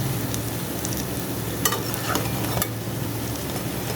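Moringa leaf fritters frying in hot oil give a steady, close sizzling crackle with a low hum underneath, broken by a few sharper pops and scrapes as pieces are moved and lifted out.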